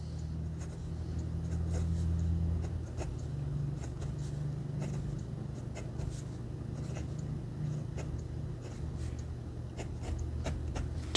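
A Wing Sung 601a fountain pen with a fine nib scratches steadily across paper, a close, continuous soft rasp with faint strokes and pauses, with no one speaking.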